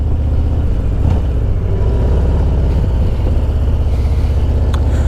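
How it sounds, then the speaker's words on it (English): A Harley-Davidson Road Glide Special with a new cam cruises at 60 to 80 km/h, its engine a constant loud, low rumble with wind noise, steady without revving. "my engine's a lot noisier since they put that cam in it"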